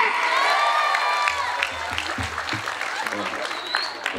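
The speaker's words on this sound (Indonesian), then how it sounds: "Tepuk tangan untuk Pak RT." Crowd applause at an Islamic gathering for the neighborhood head, dense clapping with some cheering and a low voice murmuring underneath, steady and fairly close.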